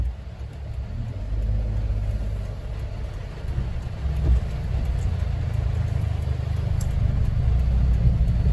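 A car pulls out during a heavy rain shower in Karachi, its engine rumbling low and steady under a continuous hiss of falling rain, close and fairly loud throughout.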